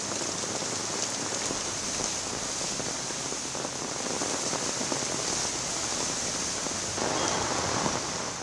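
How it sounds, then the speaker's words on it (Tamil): Heavy rain driven by strong wind pours down in Chennai, a dense, constant hiss of drops hitting surfaces that holds steady throughout with no voices. "சென்னை மற்றும் சுற்றுவட்டாரங்களில் பலத்த காற்றுடன் வெளுத்து வாங்கிய மழை."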